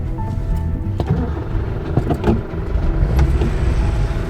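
Small Subaru car crawling over rocks off-road in Moab, its engine rumbling low and near with uneven surges, punctuated by sharp knocks and clunks from the chassis on stone.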